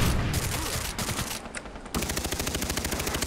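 Rapid bursts of gunfire in the video game Far Cry 3, dense overlapping shots at first, then a steady fast automatic rattle, loud and close with no talking.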